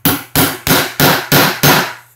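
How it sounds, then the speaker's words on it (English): Six sharp, loud hammer blows strike a center punch on metal in an even rhythm, each ringing impact decaying before the next, close by with no talk, while marking a drill point during pool pump troubleshooting. "Now, if you get it slippering like that, you might have to remark it with your center punch."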